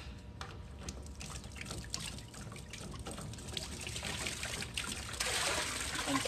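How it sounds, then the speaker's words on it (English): A used tent-washer filter is rinsed in a bucket of water, giving a steady close trickle and splashing of water throughout, growing slightly louder toward the end, with no talking. "I just have a bucket of water down here and I just rinse it out."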